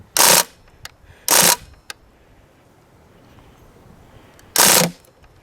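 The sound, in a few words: full-auto Tommy gun style BB gun firing short bursts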